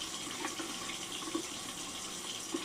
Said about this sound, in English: I'm just gonna quickly wash out my mug